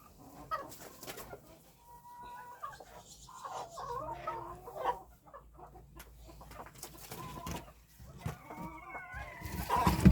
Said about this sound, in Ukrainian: Диви, півень до неї танцює.